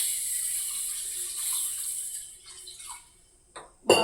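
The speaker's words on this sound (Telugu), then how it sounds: "ఇప్పుడు దీంట్లో మనం వాటర్ పోసుకొని" Water poured onto rice in the bowl of an Agaro rice cooker, a faint close trickle and splash over quiet background that ends in a louder splash near the finish, with no voices.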